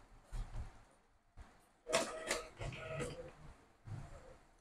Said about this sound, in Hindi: अभी प्रिंटर पे प्रिंट आ रहा है।